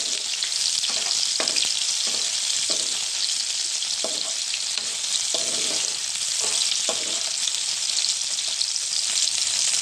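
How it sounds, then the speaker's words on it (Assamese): Loud, continuous sizzle of frying in a pan for an egg dish, with repeated short scrapes and knocks from stirring over the constant hiss. "তাৰপিছত এইখিনি এনেদৰে ফ্ৰাই কৰি লৈছোঁ অকণমান।"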